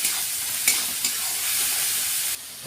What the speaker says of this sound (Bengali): মশলাগুলো ভালো করে ভেজে নেব।